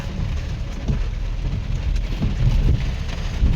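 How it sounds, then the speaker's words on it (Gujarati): Heavy rain pours down steadily outside the Salangpur Hanuman temple, a dense, continuous close hiss with low rumbling texture and no voices. "વરસાદ બહુ જોરથી ચાલુ હે"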